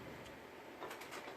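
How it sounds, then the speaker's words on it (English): Pet birds, likely doves or pigeons, give faint soft coos and chirps in a quiet indoor room, a few short calls standing out near the end. "Please excuse my birds."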